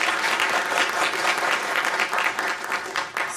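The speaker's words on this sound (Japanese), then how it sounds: "拍手を持って感謝を示したいと思います" Audience applause thanking speakers at a business association visit to OIST, a dense, sustained patter of many hands clapping, steady and fairly close throughout.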